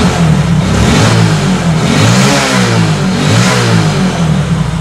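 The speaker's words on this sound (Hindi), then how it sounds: "आप देख पा रहे हो गाड़ी फुल रेस ले रहा है दोस्तों" A Hero Glamour Fi motorcycle engine, recently troubled by a misfire from a clogged injector, revs hard at full throttle, loud and close, a continuous gritty roar with slight rises and dips and no speech.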